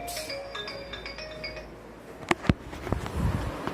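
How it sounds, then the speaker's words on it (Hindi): A mobile phone ringtone chimes in a melodic electronic pattern, then stops, followed by a few sharp knocks and clatters nearby. "अब मेरा मोबाइल बज रहा है"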